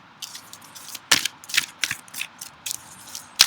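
Tarot cards are being shuffled by hand close up, giving sharp, irregular riffling snaps and brief flutters separated by short quiet gaps.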